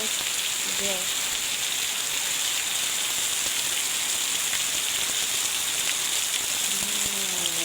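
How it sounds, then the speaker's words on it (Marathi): Steady, heavy rain hisses continuously on village houses and surfaces, with faint voices briefly audible beneath the downpour. "पाऊस चालू झाला आता गावामध्ये सर्व"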